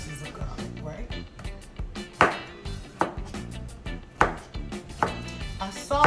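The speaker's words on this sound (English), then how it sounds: "I think just some good slices of garlic, right?" A knife slices garlic on a cutting board while cooking a pepper roast, giving a series of sharp close chopping taps at an irregular rhythm, some louder than others, with kitchen clatter and talk in the background.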